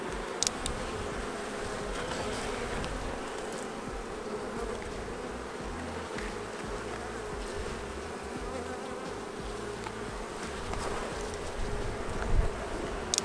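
Honey bees buzz steadily in an open hive during an inspection, a dense, continuous hum close by with faint rustling and no voices.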